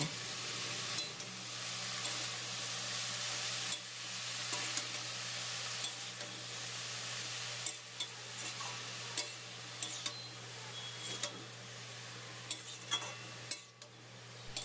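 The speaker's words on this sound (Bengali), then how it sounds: "নুন হলুদটা শাকের সাথে মিশিয়ে নেব" Kalai greens with salt and turmeric are stirred in a pan over a soft, continuous sizzle, with repeated scraping and light clinks from the utensil coming close and clear.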